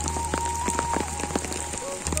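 Steady rain falls across the Raja Seat garden in Madikeri, a constant close hiss of drops striking surfaces with occasional heavier patters throughout.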